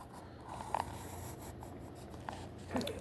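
Pen marks being drawn by hand for a tape diagram during a grade 7 math lesson, quiet scratchy strokes and taps heard close against a faint background hum.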